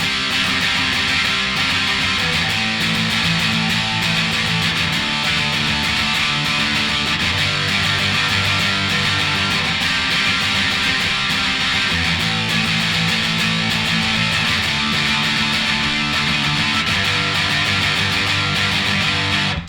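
Strummed guitar chords of the pre-chorus of a song ring out continuously in a steady rhythm, a dense, bright wash of strings moving through a repeating progression.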